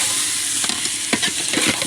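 Frying bottle gourd with rice sizzles steadily in a pan, with close scraping strokes of stirring at an uneven rhythm over the hiss. No one speaks.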